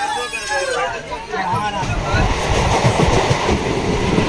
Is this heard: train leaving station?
yes